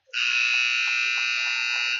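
During a junior ice hockey game between the DSM Jr Bucs and the Omaha Jr. Lancers, the arena buzzer sounds as one loud, steady, harsh blast lasting about two seconds.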